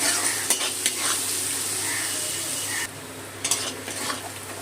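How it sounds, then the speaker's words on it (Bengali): Chopped onions fry in oil with whole spices in a pan for chicken biryani, sizzling steadily up close with occasional clinks of a stirring utensil; the hiss drops a little partway through. "এর মধ্যে দিয়ে দিলাম পেঁয়াজ কুচি পেঁয়াজটা ভেজে নেবো"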